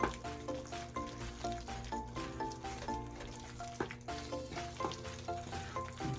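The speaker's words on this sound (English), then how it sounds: "And it's a nice little stir. Get everything all mixed up in there." Vegan taco pasta seasoned with McCormick taco seasoning gets stirred in a small pan, giving a soft, steady sizzle and scraping stir sounds at low volume beneath light background music.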